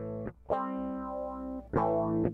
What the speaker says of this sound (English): here's how it sounds with the phaser.